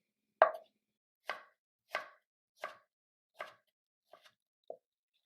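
A knife slices a tomato lengthwise on a cutting board, giving seven crisp, evenly spaced thuds about every half second to a second, the last few softer and quicker, close and clear against silence.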